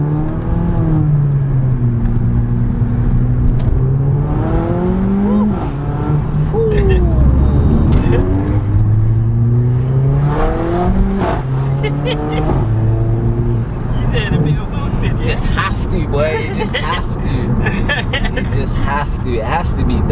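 A warm 430 bhp Mercedes CLA45 AMG engine revs up and down repeatedly at close range, its exhaust crackling and popping, with sharp bursts clustering toward the end.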